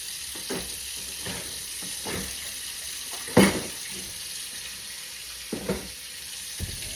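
Tap water runs into a kitchen sink during chicken prep, a steady broadband hiss with a few brief clatters and one louder knock partway through, no voices.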